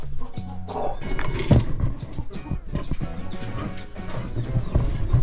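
Chickens cluck and squawk in a busy, close farmyard, with overlapping calls and scuffling noise throughout.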